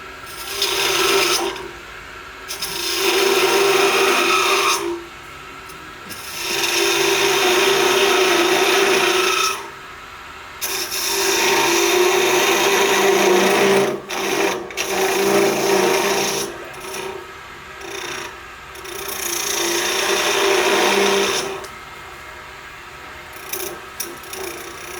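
A wood top blank is shaved on a lathe, a gouge held on its edge like a skew chisel, giving a steady rasping hiss in long bursts separated by short gaps.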